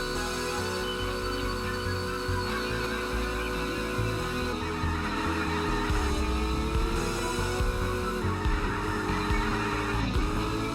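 A racing car engine in a drifting video game drones loud and continuous, its revving pitch bending up and down throughout, with layered music underneath and no break.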